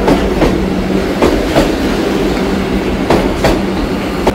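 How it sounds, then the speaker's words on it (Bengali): A train pulls into a hot, crowded NJP station, its wheels giving a steady rail rumble broken by several sharp clickety-clack beats over the rail joints, loud and close with no voices. "আমাদের ট্রেন চলে এসেছে"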